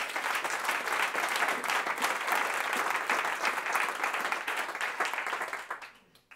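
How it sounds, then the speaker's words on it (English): Applause from an audience fills the space, brisk dense clapping at a steady level before fading out quickly at the end. "Helps me when you clap."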